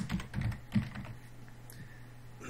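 Keys clack on a computer keyboard while Python code for inputting numbers is entered, a quick cluster of close, distinct keystrokes followed by a few sparser taps over a low background hum.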